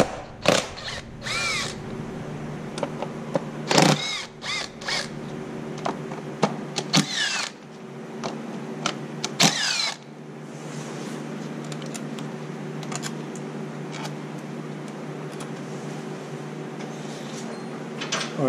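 Power tool buzzing out 10 mm bolts from the coils of a 4-cylinder engine, several short close whirring bursts followed by a steadier running hum.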